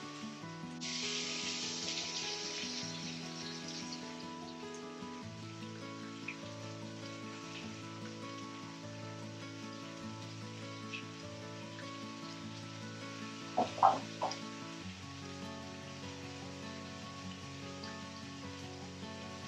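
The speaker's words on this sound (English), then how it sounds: "So I can start hearing all the sizzling." Steady sizzling of vegetables frying in a pot for one-pot pasta, a continuous crackling hiss with a brief louder burst of spatter partway through.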